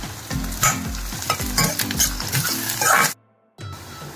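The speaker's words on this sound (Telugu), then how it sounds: "ఇవి ఎర్రగా వేయించుకోవాలి" Dried small fish frying in a pan for a mango curry, a loud close sizzle with rhythmic scraping stirs that cuts out abruptly near the end, then resumes.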